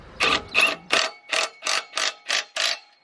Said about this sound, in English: What do we rate on the impact gun?